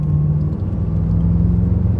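A car with a dual-clutch transmission and fake stereo exhaust driving in traffic, its engine giving a steady close low hum and rumble inside the cabin.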